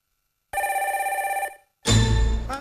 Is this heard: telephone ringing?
yes